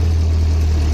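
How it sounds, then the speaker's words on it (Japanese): A Nissan Gazelle S110 engine runs at idle while being adjusted after a restoration, a loud, close, deep steady rumble with a strong low hum filling the second, no talking. "この時まだちょっとアイドリングが、少しアクセル離したりするとアイドリング不安定で"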